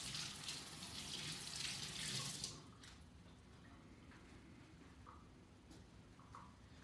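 Tap water runs into a kitchen sink while hands are rinsed of egg, a soft hissing stream for a couple of seconds, then the flow stops, leaving faint drips and small clicks.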